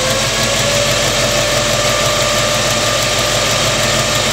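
A car engine idles under an alternator load test with the air conditioning and cooling fans running, producing a constant, even drone with a faint steady whine and no breaks.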